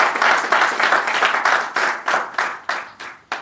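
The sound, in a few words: audience applause for contributing playwrights at book launch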